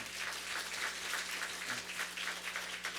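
A church congregation claps at a Sunday worship service, a short burst of continuous, moderately quiet applause from many hands with a faint low hum underneath and no clear speech.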